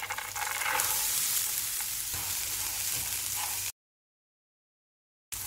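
Whole black gram frying in oil with mustard seeds, green chilli, curry leaves and ginger hisses in a steady crackling sizzle, then cuts to silence before briefly returning.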